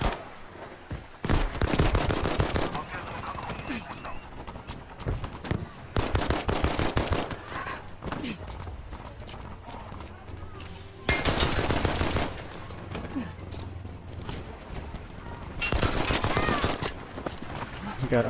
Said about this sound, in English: God, I'm killing all these people with my pistol